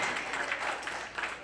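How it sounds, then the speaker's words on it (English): An audience at a 70th birthday party claps in a faint, steady, rolling wave that swells slightly a couple of times over a short stretch, heard from a distance. "Ladies and gentlemen, let's give Mr. Kofo a round of applause."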